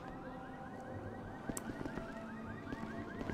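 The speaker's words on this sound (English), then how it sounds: "There's car alarms going off and stuff." A car alarm blares in the GTA 5 video game during a zombie apocalypse mod, its rapid repeating rising chirps cycling steadily at moderate distance, with occasional clatter and thuds layered beneath.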